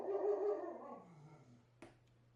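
A dog howls and whimpers close by, a drawn-out whining cry that trails off, followed by a brief sharp yip, with no one talking.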